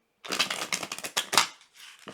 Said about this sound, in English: I'm going to shuffle the cards 3 times in a row